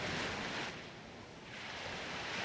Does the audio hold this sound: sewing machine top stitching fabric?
no